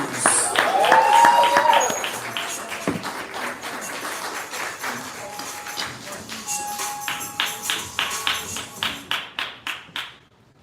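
An audience applauds at a poetry slam: a dense round of clapping and cheers at the start that thins into scattered, rhythmic individual claps fading toward the end, with voices talking over it.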